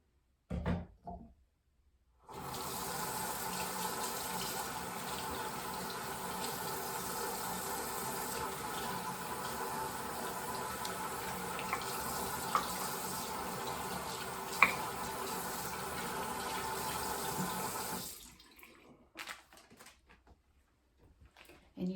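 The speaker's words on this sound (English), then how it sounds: "tilt this down so you can watch me wash my arms" Tap water runs steadily over arms being washed at a sink during tattoo laser-removal aftercare, a continuous close splashing stream lasting about sixteen seconds with no talking, starting and stopping abruptly.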